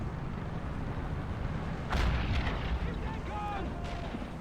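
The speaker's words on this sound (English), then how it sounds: "We have a mortar defending the village." A mortar fires in the World War II strategy game Men of War: Assault Squad, sounding as one heavy boom in a Budapest village siege, followed by a whistling trail over a steady rumble of battle noise.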